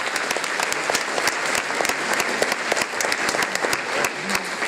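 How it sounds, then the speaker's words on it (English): A crowd claps steadily and warmly, a dense continuous applause filling the room without pause. "Let's give those two wonderful teachers our applause."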